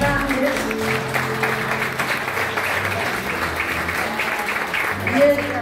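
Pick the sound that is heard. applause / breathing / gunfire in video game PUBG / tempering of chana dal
applause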